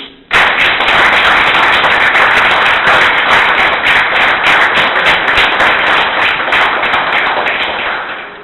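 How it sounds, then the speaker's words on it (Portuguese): Congregation clapping in a church service, a dense, loud and sustained burst of many hands that starts abruptly and fades slightly toward the end. "Palmas para o Senhor Jesus"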